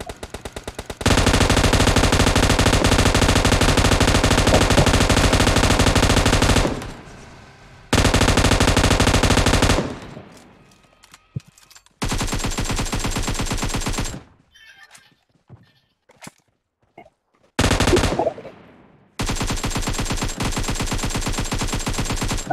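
Long bursts of rapid automatic gunfire in PUBG Mobile gameplay, loud and sustained, broken by short pauses and scattered single shots.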